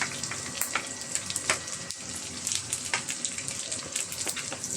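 Onions dropped into a hot frying pan for pinakbet, giving a steady crackling sizzle with close, busy spatter throughout, loud and alone without talk.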